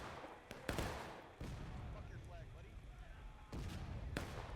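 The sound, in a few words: artillery fire in a Civil War video game battle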